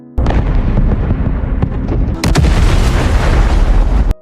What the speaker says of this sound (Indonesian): bom meledak di distrik pengungsi